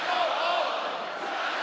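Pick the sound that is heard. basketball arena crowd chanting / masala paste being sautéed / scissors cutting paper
basketball arena crowd chanting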